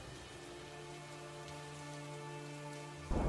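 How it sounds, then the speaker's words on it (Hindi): Heavy rain pours in a dense, even hiss, steady and close, with a sudden louder burst at the very end. "बारिश पहले के मुकाबले बहुत तेज हो चुकी थी।"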